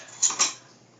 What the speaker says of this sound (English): as you're mixing the wet and the dry